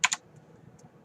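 Two quick keystrokes on a computer keyboard, close and crisp, followed by a faint stray click and quiet room tone.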